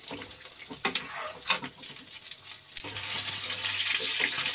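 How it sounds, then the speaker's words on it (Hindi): Potato cutlet balls stirred as they fry in oil in a kadai: a few sharp clatters of the spoon at first, then a steady bubbling sizzle that builds and holds, fairly quiet and close, with no talking. "सारे बॉल्स इसी प्रकार से मैं कढ़ाई में डालती जाऊंगी और ये मैंने सारे बॉल्स डाल दिए हैं अपने और अब मैं इनको हिलाऊंगी"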